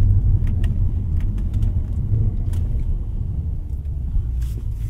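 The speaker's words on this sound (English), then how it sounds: "the engine just screams. I love this V8" The V8 engine of a Ford Mustang GT rumbles low and steady inside the car while it drives, a constant muffled drone with faint rattles above it.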